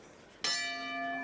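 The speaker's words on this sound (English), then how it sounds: "There goes the bell." A boxing round bell sounds at a 71kg amateur bout, a single loud metallic strike with a long ringing sustain, followed by another faint strike at the end, alone without talk.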